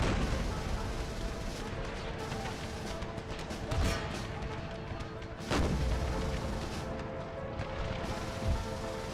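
A Civil War-era battle in Empire: Total War (Brothers vs. Brothers mod) rumbles with continuous distant musket volleys and heavier artillery booms, a dense rolling roar with a few louder blasts standing out.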